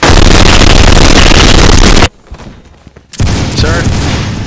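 LMG gunfire in the game Phantom Forces: a loud, sustained burst of rapid shots for two seconds, a brief near-silent pause, then another loud stretch of firing.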